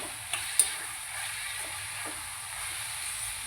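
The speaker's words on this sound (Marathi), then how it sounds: "बारीक चिरलेला जो टोमॅटो आहे तो टाकून घेते आणि व्यवस्थित अगदी शिजेपर्यंत मी आता हे परतून घेते" Finely chopped tomato sautéed in oil in a pan with onion gives a faint, steady sizzle, broken by a couple of brief utensil clicks near the start.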